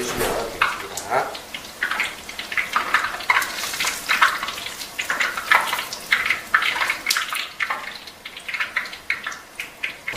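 Mountain vegetables deep-frying in hot oil crackle and sizzle, a dense, uneven bubbling with sharp pops and stirring, close and fairly loud.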